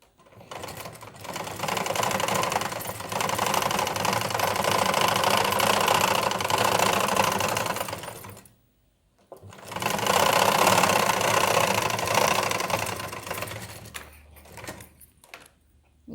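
A sewing machine stitches a blouse in two long, steady whirring runs split by a short pause, with no talking.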